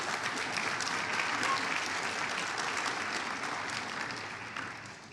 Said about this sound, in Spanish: Me alegra ese aplauso